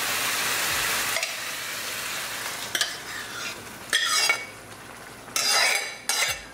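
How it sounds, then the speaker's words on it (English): Black-eyed peas being stirred into a pork curry in a pot over medium gas, a steady sizzle broken by several scraping spoon strokes against the pot, close and alone. "Mix it well."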